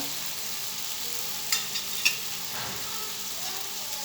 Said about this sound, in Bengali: এগুলো দিয়ে কিছুক্ষণ নেড়ে সেরে মশলাগুলো আমি কষিয়ে নিব